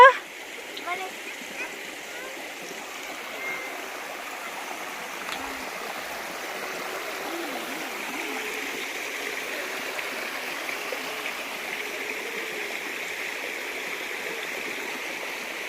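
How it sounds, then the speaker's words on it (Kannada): A steady rush of flowing water from a small waterfall in Tulu Nadu, coastal Karnataka, heard at moderate distance, with a person talking over it now and then. "ಅಲ್ಪದಲ ಒಂದತ್ತು ಮಲ್ಲ ಜಲಪಾತ ಇದ್ದಾತ"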